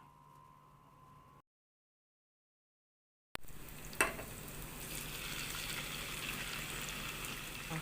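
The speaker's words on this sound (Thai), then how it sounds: "เดี๋ยวเราใส่หมูลงไปค่ะ" Pork is added to hot oil with fried shallots. A short faint hum gives way to silence, then a sudden bright sizzle starts with a splashing pop and holds steady and fairly loud.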